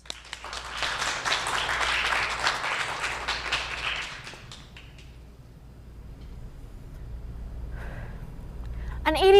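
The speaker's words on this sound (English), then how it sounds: "Let's give her a round of applause." An audience claps for a student performer at a speech and debate showcase, a dense burst of applause for about four seconds that fades out, followed by quieter room noise and a brief sharp sound at the end.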